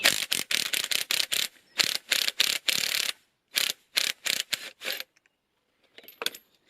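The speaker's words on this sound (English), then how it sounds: "I'm going to use the impact gun again." A pneumatic impact gun with a 22mm socket loosening the top nut of a coilover strut on a Mini: loud, close, rapid rattling bursts in quick succession, then a pause and a final short burst.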